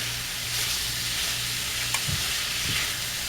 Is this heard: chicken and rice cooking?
yes